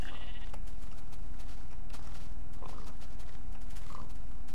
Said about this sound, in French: J'ai des moutons.